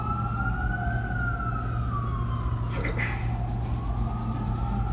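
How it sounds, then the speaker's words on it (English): A wailing emergency siren sweeps up and down in pitch, steady and moderately loud over a low engine hum. "Sorry for the sirens in the background."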